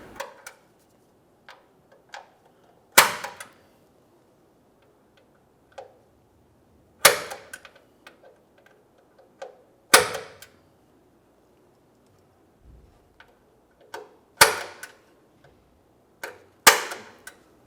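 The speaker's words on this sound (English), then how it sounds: "Let's use the center punch to start this hole." Sharp metallic taps of a center punch starting a hole in a 1999-2006 Chevrolet Silverado 1500, ringing out one at a time with long pauses, a handful of crisp strikes across a quiet background.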